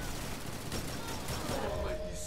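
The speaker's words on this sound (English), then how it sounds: "I'm shooting the Arbalest in the body and he just gets the headshot." Arbalest rifle fire in Destiny 2 during a Trials match, dense game gunfire running steadily throughout with a voice talking over it.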